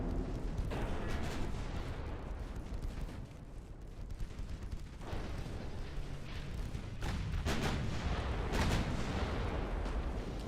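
Naval battleship gunfire in the video game Ultimate Admiral Dreadnought, heavy booming salvos that rumble and roll over a constant low din of battle, with several louder blasts near the end.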